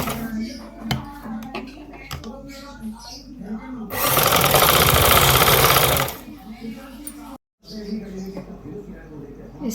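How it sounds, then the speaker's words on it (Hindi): A sewing machine stitches fabric for a 10-year-old girl's frock, running in one loud close burst of about two seconds amid speech, with quieter handling sounds before and after. "यूं करके हम इधर सिलाई लगाते हैं"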